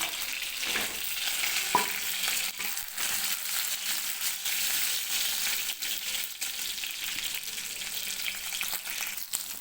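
Fish fries in oil in a pan over a medium flame, giving a steady, close hiss of sizzling with occasional soft crackles and no voices.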